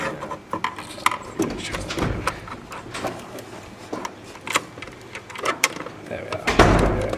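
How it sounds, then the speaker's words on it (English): Screws being tightened with a magnetic screwdriver while mounting a dual computer monitor, irregular close ratcheting clicks and scraping turns, with a person speaking intermittently over the work. "Both screws are screwed in tightly"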